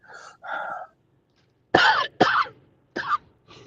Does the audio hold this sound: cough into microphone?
yes